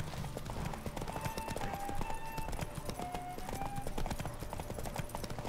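Horse hooves clip-clop in a fast, steady gallop during a horse race in The Witcher 3 video game, with faint tonal game music running underneath.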